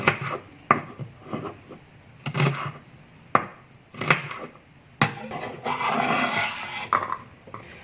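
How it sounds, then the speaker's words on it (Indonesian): A knife slices shallots on a board in separate close, crisp strokes with short pauses between them, some cuts quick and some drawn out as rubbing passes, with no talking. "saya juga akan mengiris-iris bawang merahnya"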